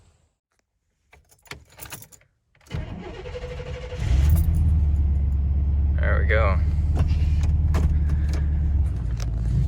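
A 1998 Chevy 3/4 ton pickup truck starts up after keys jangle and a door moves, then settles into a loud, steady low idle rumble close by, with a brief remark spoken just before the engine catches.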